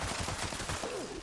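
A rapid string of close gunshots from an explosive handmade rifle in the video game Fallout 76, firing in a quick, steady rhythm, fairly quiet overall.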